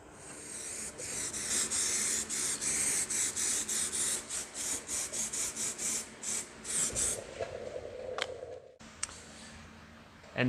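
A squeegee rasps in quick repeated strokes, spreading seam sealer across a rocker panel on a 2004 Chevy Suburban during rust repair, close and crisp, then stops.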